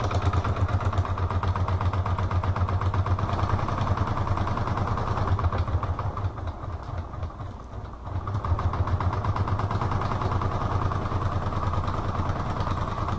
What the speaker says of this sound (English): I'm sewing here.